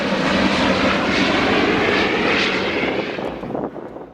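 A commercial airliner's engine roars overhead, a loud, steady broadband rumble that holds level for about three seconds before thinning and fading as the aircraft passes.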